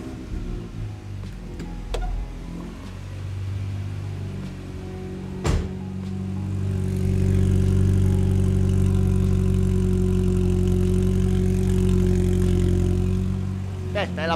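A rebuilt supercharged Mini Cooper S R53 engine starts up with a sharp burst and settles into a steady, close idle, running evenly for the rest of the clip.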